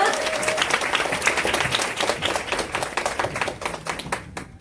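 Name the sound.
audience applause welcoming a speaker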